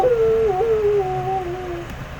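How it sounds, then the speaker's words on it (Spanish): A recorded wolf howl used as a sound effect: one long, sustained wavering cry that slides slightly in pitch, heard alone and fairly loud with no talking. "un audio de un lobo aullando."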